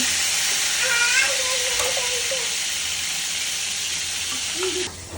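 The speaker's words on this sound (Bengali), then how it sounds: "আলুগুলো ভেজে নিচ্ছে।" Potatoes frying in hot oil in a home kitchen while biryani is being prepared, giving a steady broadband sizzle and hiss throughout with a few faint clinks and brief background sounds.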